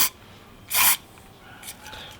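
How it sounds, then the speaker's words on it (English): A short hiss of hairspray from an aerosol can, sprayed into a Yamaha R6 motorcycle's right-hand handlebar grip; one brief, close burst after a quiet pause, with a fainter second puff later. "We're going to spray a little bit in the grip,"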